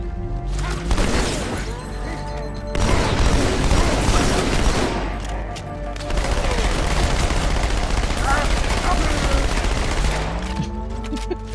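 Dense, sustained dual-wielded gunfire from Halo 2, loud and continuous with crashing impacts and booms, and a brief lull near the three-second mark.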